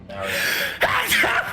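A single sneeze from a person at a Dungeons & Dragons tabletop session, a quick sharp burst close to the microphone right after a word of speech.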